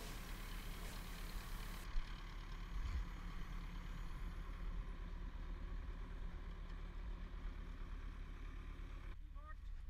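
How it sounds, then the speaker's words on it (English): A vehicle engine rumbles steadily at close range while driving a trailer out from under a boat, a low continuous drone with some clunks and rattles as it moves. "driving the trailer out from underneath the boat"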